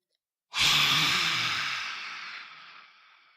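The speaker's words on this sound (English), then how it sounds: "you stick your tongue out as far as you can and you make some noise or like a hiss sound" One long, forceful breathy exhale with a harsh hiss through an outstretched tongue, a yoga lion's breath, loud at first and slowly fading out, heard alone.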